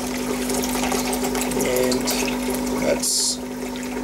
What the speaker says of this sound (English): I've set the air pump going,